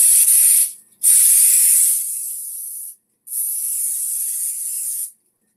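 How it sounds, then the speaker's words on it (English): Pan spray from an aerosol can hisses into a bundt pan in three sustained bursts, the first short, then two longer ones with brief gaps between them, loud and close. "We need to spray it with some pan spray so the cake doesn't stick."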